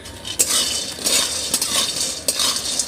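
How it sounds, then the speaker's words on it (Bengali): Vermicelli frying in a pan with cardamom and bay leaves, a steady sizzle broken by several sharp scrapes and clinks of a metal spoon stirring against the pan, close and fairly loud. "সিমুইটা ভাজছি এর মধ্যেই একটা এলাচ দিয়ে দিচ্ছি এই যে আর দুটো তেজপাতা ছিঁড়ে দিয়ে দিচ্ছি"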